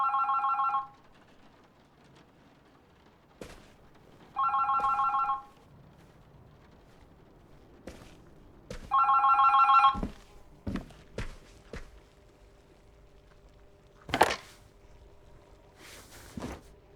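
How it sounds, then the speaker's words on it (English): A telephone rings in The Berlin Apartment video game, three clear electronic ring bursts spaced a few seconds apart, followed by several sharp clunks and handling thuds, with no talk. "Oh, the phone."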